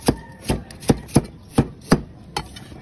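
Carrots chopped with a knife on a cutting board, seven crisp, evenly spaced knocks close up, with no talking.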